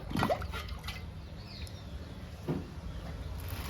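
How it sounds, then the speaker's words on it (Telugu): Rice water is poured onto freshly planted money plant cuttings, giving a faint, soft trickle with a few brief splashes near the start and again toward the end. "వాటర్ ఇచ్చే బదులు నేను రైస్ వాటర్ ఇస్తున్నాను"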